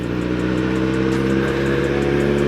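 A Kawasaki motorcycle engine idles steadily at close range, a loud continuous mechanical drone with a faint rhythmic ticking noise riding on top.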